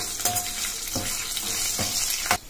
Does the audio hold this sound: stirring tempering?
yes